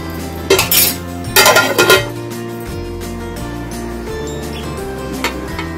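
A metal lid clanks onto a pot of ridge gourd cooking over low heat, a few short bursts of clatter as water is set on the lid, followed by a quieter stretch with a faint clink near the end.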